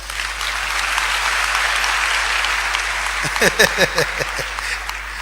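A crowd claps steadily at a youth empowerment summit talk; after about three seconds the applause thins and a voice speaks over the fading clapping.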